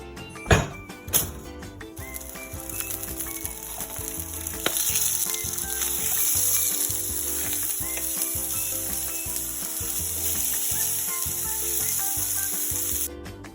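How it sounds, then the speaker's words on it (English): Sausage patties and scrambled eggs sizzle steadily in a pan alongside English muffins while making breakfast at a cabin, a continuous close frying hiss after a couple of sharp knocks at the start. "I've got the sausage patties cooking, scrambled eggs cooking, the English muffins cooking."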